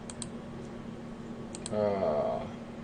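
Clicking keystrokes on a Royal Arrow typewriter while typing business documents, a few quiet scattered clacks followed by a brief ringing bell-like tone, faint and close in a quiet room.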